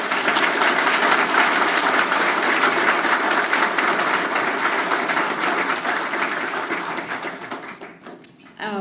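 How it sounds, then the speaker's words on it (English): A large dinner audience at the 2017 Nisei veterans banquet gives a full, dense round of applause that carries steadily for several seconds, then thins and fades as a voice comes in at the close. "Another round of applause."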